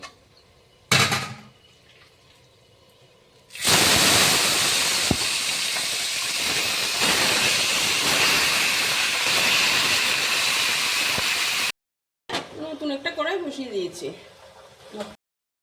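Marinated chicken goes into hot spiced oil in a kadai for an old-style Rosiawala chicken, setting off a loud, steady sizzle that lasts about eight seconds, followed by a short stretch of talking.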